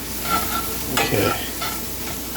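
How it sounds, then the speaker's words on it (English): Liver chili beans are stirred in a frying pan: a gentle sizzle runs under a few scraping stirs, close and moderately quiet. "Just gonna mix it around."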